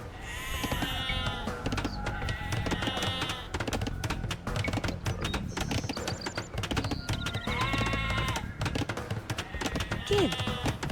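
Sheep bleating in the video game Age of Empires II, several repeated bleats rising over a dense mix of game sound effects and mechanical clatter, fairly loud throughout.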